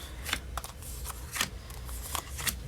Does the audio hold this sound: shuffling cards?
yes